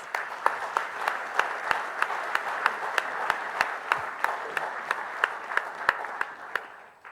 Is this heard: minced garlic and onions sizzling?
no